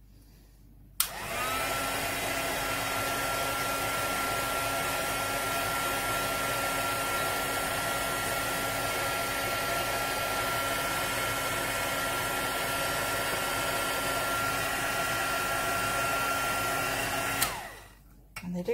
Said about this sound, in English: I'm kind of pulling back with my heat gun and moving it around to try and get it to shrink